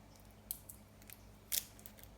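Scissors snip twice at tape wrapped around a fountain-pen ink sample vial, two short crisp cuts about a second apart, close and quiet, with a faint hum of a fish tank in the background.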